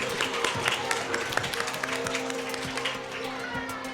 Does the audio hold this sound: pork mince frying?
no